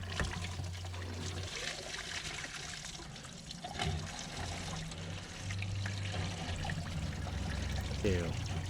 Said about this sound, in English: Here comes the dirty water.